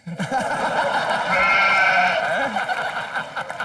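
A goat bleats in a wavering, drawn-out cry lasting most of the few seconds, loud and close over a low background murmur.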